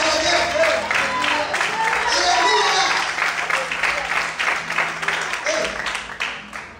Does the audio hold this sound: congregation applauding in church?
yes